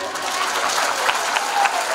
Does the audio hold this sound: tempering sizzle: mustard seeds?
no